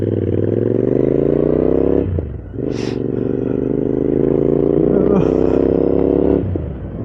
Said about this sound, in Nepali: इन्टरसेप्टर 650 राम्रै छ बाइक चाहिँ